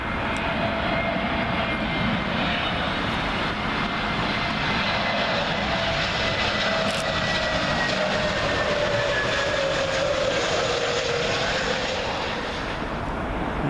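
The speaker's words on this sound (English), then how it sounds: "Lufthansa A321neo, arriving from Frankfurt" A Lufthansa Airbus A321neo jet arriving from Frankfurt on final approach to land on runway 27L at Heathrow, passing close with a loud, steady broadband roar and thin whining engine tones that slowly drop in pitch.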